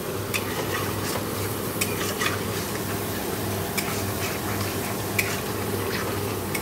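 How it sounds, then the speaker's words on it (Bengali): Spice paste without onion or garlic being sautéed and stirred in a wok, a steady close sizzle dotted with regular ticking scrapes of the spatula, no talking. "তো চলো মশলাটা নিয়ে কষিয়ে নিই।"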